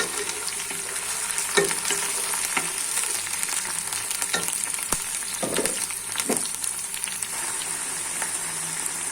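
Ginger and garlic paste frying with chicken for a chicken rezala curry, a steady loud sizzle running throughout with occasional stirring scrapes and clacks of a spoon in the pan, no voices.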